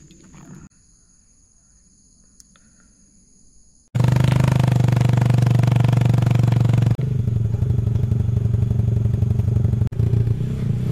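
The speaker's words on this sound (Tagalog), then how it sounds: "Nakamotor pa rin tayo syempre." A motorcycle being ridden outdoors cuts in after a few seconds of quiet and then holds a loud, steady engine drone with slight shifts in pitch, close and continuous, with no talking.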